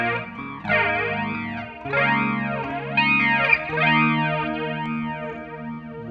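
Electric guitar chords run through an MXR EVH117 flanger set to a fast sweep, the tone wobbling and swooshing up and down in repeated waves as the chords ring out alone.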